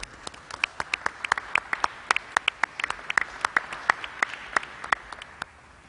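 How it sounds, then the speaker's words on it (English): Sparse, uneven clapping from a small audience at a COVID-19 press briefing at the Javits Center, with distinct individual claps scattered over several seconds that thin out toward the end. "Let's give New Yorkers a round of applause."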